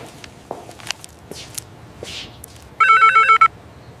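A phone rings during a call in a Hindi drama, a short burst of electronic ringing late in the clip. Before it come scattered footsteps and small handling noises in a quiet room.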